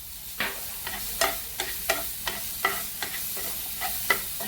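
Green chili paste sautés in a spoonful of oil in a hot pan. A spatula scrapes about ten times at a steady, even rhythm over a soft, continuous sizzle, close up and with no voices.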